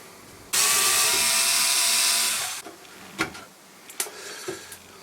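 Screws coming out of the underside of a worn antique piano bench, a loud steady power-driver whir lasting about two seconds, then scattered clicks and knocks of wood and tools.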